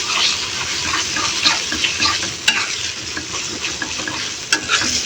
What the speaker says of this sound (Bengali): এখন দিয়ে দিব মাছ ভালো করে নেড়ে চেড়ে মশলার সাথে মাছটাকে মিশিয়ে দিই